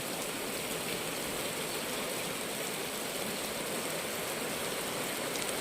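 Constant broadband hiss of steady rain pouring down, dense and unbroken, with a faint gusty wash of wind underneath.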